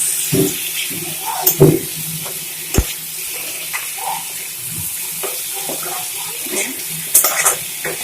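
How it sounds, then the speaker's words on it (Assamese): Fish curry with potatoes simmers in a pot while a spoon stirs it, giving a wet bubbling sizzle with scattered scraping and clinking strokes, close by. "মাজে মাজে এনেকৈ লৰাই থাকিব, নহ'লে তলত লাগি যাব পাৰে।"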